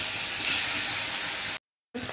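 Onions frying in a pan for a Bengali fish curry, after potatoes were fried, give a steady loud hiss and sizzle that cuts out briefly near the end, then resumes.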